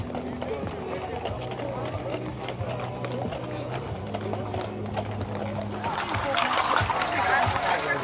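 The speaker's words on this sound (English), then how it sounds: "it's easier to chase these horses on foot" Horses moving along a busy street in Washington, D.C. during a citizenship protest, their hooves clattering in an uneven run beneath loud talking and crowd noise, with the commotion swelling toward the end.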